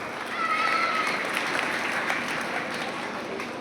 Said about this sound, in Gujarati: આપણે જોરદાર તાળીઓથી ફરીએ પણ નાસિર હુસૈન સાહેબને અભિનંદન પાઠવું